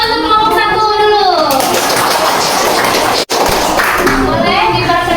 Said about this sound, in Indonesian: beri tepuk tangan untuk kelompok 1 dulu.